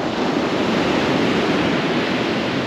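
Steady, loud rush of surf breaking on a steep shingle beach at Withernsea, close and continuous, with no voices.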